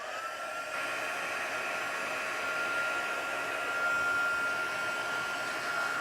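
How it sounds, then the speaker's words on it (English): A heat embossing tool blows hot air for paper crafting, giving a loud, steady whooshing roar like a hair dryer that runs continuously from start to finish with no talk over it. "When you do heat embossing, you have to use a heat tool."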